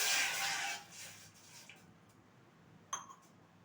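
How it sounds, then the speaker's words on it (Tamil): Water is poured into a pot on the stove while making roasted gram halwa. A brief splashing rush comes at the start and fades out, and a single light clink follows later. "இப்போ வந்து ஒரு பாத்திரத்தை அடுப்பில் வச்சாச்சு. அதில் வந்து 2 கிளாஸ் அளவுக்கு தண்ணி சேர்த்துடலாம்."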